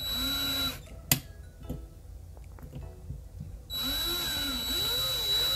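A small power drill whines steadily as it bores out the rivet on a diecast toy 1968 Dodge Dart wheel, running in two close, loud bursts separated by a short pause filled with faint handling clicks.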